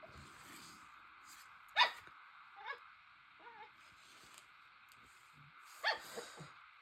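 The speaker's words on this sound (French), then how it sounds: "Ce chien est une plaie." A dog gives two short, faint barks, spaced a few seconds apart, against a quiet indoor background.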